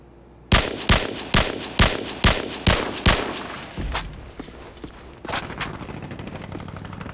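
A G36C assault rifle firing in Call of Duty 4, seven evenly spaced loud shots in a steady rhythm, then a few more scattered, fainter shots with distant echoing fire trailing off.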